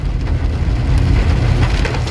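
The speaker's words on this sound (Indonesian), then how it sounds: "Ini posisi hujan ini lur, maaf lur." Rain drums on the outside of a 2008 third-generation Honda CR-V 2.0 automatic, heard from inside the cabin as a dense, steady patter over a deep low rumble, with no talking.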